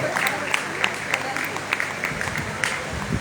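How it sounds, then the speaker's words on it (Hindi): Audience at a Hindi poetry anthology launch and honouring ceremony in Lucknow applauds steadily, a dense wash of clapping that holds for the whole stretch with a few sharper claps rising out of it. "बहुत ही अच्छा, जोरदार ताली बजा रहे हैं।"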